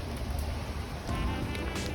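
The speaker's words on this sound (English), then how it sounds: "the rain's coming in" Rain pours at a South Carolina fishing spot, a dense, steady hiss of drops close by with a low rumble beneath.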